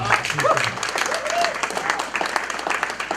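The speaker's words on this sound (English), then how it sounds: "can we have a round of applause for Bob for putting this together?" Audience at a candidate night event applauding, a dense burst of clapping with a voice briefly heard over it at the start.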